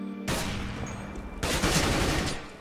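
Rapid bursts of gunfire from a Counter-Strike pro match, with two loud volleys close together, the second starting about halfway through and continuing to the end.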